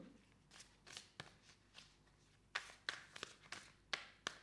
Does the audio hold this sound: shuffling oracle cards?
yes